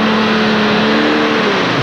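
A tractor-pulling machine called the White Snake roars through a run at a European pulling event in Bernay, France, its engine loud and sustained with a steady drone that bends slightly downward near the end.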